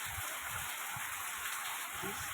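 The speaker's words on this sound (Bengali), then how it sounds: "এখন প্রচুর পরিমাণে বৃষ্টি হচ্ছে তো দেখো বৃষ্টিটা কীরকম হচ্ছে" Heavy rain falls in a steady, close hiss, with a few low thuds mixed into the wash of water.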